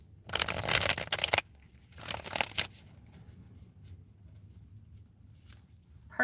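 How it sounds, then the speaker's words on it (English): Tarot cards riffled and shuffled by hand, two dense bursts of papery flutter close by, the first longer than the second, then a quiet stretch with faint room noise. "I'm going to give it a good shuffle before I start the timer."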